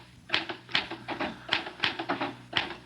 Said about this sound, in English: Why did I never learn to work a typewriter?